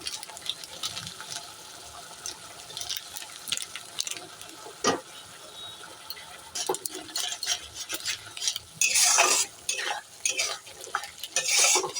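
A utensil stirs and scrapes steadily in a pan while fish head curry fries with turmeric and ground cumin, accompanied by soft sizzling and clinks of metal against the pot, with louder bursts of scraping near the end.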